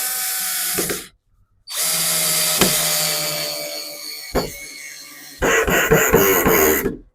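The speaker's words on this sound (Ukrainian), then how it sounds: "Добре, форте, крутимо десь тут. Друга швидкість." A 12 V cordless drill driver runs at second speed in several whirring bursts separated by brief pauses, loud and close, with a sharp click between runs.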